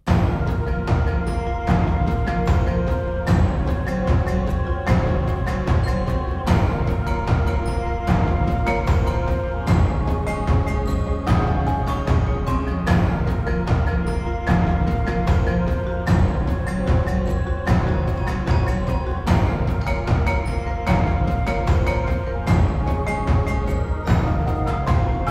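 Tribal-style game music layer built from driving percussion and marimba, a dense, loud, continuous groove with steady rhythmic hits throughout, with no voices over it.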